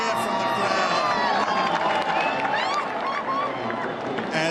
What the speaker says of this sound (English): A cheer from the crowd